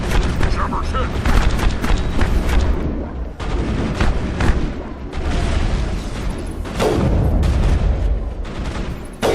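Gunfire and booming blasts from a firefight in the video game Mass Effect, a dense, loud stream of shots and impacts with a voice speaking over the combat.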